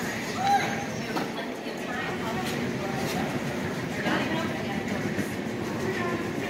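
An airport subway train rumbles steadily along the track, with faint chatter from people nearby.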